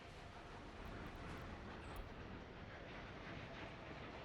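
Trains run on a shared track in the Soviet city-building game Workers & Resources: Soviet Republic, giving a steady, dense rumble with no clear breaks throughout.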